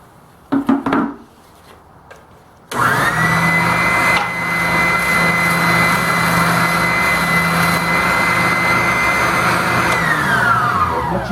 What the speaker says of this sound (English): The sander only has about 5/8 of an inch stroke on of oscillation, which isn't very much.